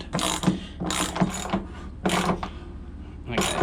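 A hand ratchet turns a 3/4 bolt or nut to tighten down a pool filter lid, giving close, repeated bursts of clicking in a steady back-and-forth rhythm with short pauses between strokes.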